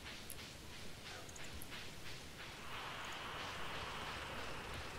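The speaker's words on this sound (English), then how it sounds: "I like the wind." Wind blowing in the farming game Stardew Valley in fall, a soft continuous hiss with faint gusting texture and a few light clicks, swelling slightly toward the end, with no talk.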